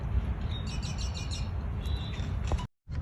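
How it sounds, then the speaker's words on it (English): Birds chirp and tweet repeatedly in short bursts at Galveston Island State Park, moderately near over a low rumbling background, ending abruptly with a brief silence. "Oh my gosh, birds."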